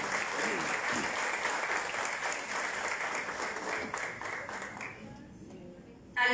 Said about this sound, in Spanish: a quienes pido un fuerte aplauso